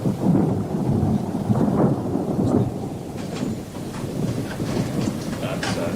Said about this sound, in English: Another storm brewing by the sound of it.